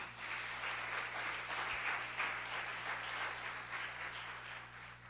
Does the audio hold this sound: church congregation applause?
yes